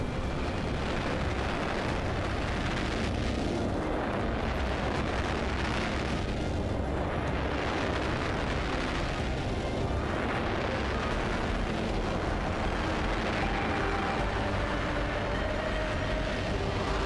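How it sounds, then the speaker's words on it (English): Grenade explosions in Apex Legends on PC roll out as several deep, rumbling blasts that swell and fade at intervals over a steady background din, with no talking. "Testing out nades and guns."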